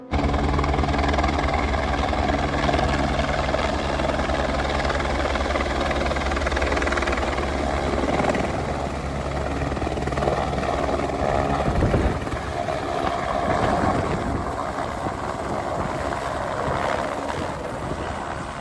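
A helicopter at the Kedarnath helipad thrums steadily and loudly with a continuous rotor and engine roar that persists throughout, shifting slightly in texture partway through.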